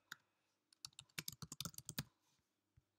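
Computer keyboard typed on in a quick flurry of about a dozen crisp keystrokes, close and fairly quiet, with a couple of isolated taps before and after.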